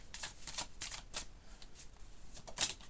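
Tarot cards riffle and slap as a deck is shuffled and cards are drawn during a reading, a quick series of soft papery bursts, close and quiet, with no speech.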